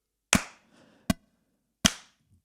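Three sharp hand claps land at a steady, even pace during drum practice, each one crisp and loud with a short ring-out, separated by near silence.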